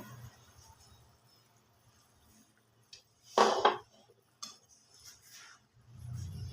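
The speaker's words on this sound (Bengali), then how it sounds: "এটা ফুটবে বন্ধুরা ঢাকাটা একবার খুলবো" A pot lid is lifted off a simmering bhetki fish curry with potato and cauliflower, giving one sharp metallic clink and a scrape, followed by a few softer knocks in a quiet kitchen.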